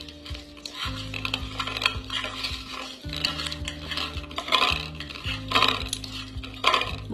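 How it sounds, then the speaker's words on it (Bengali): Tangra fish being rubbed with salt and turmeric powder in a kitchen, giving close, steady wet rubbing and squishing with occasional clinks of a metal bowl, under a constant low hum. "নুন আর হলুদ গুঁড়ো মাছের গায়ে ভালো করে মাখিয়ে নেব।"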